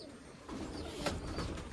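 Pigeons cooing inside a coop bedded with straw, a soft, low burble that sits close and steady under faint room noise, with a slightly fuller stretch in the second half.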